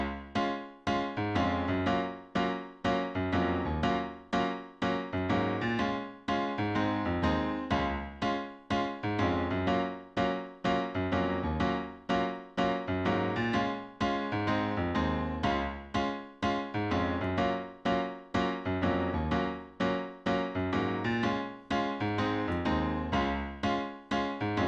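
Solo piano plays the intro and verse of a song, with steady rhythmic chords over a bouncing bass line, close and full, with no voices.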